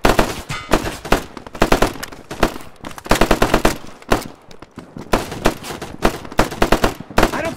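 Rapid bursts of automatic gunfire rattle through a firefight, loud and close, with repeated volleys broken by short pauses.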